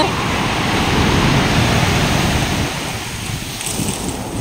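Sea waves at La Union beach rolling and washing close by, a broad steady rush of surf with wind noise buffeting the microphone.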